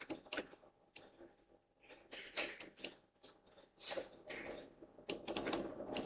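Computer keyboard keys are pressed in irregular clusters of crisp clicks and taps, close and fairly quiet, with short pauses between bursts.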